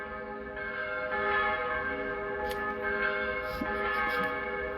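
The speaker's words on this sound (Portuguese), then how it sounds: "É sino que vai lá, sino." A church bell tolls in the distance, its sustained ringing tones steady and moderately faint beneath a low background murmur.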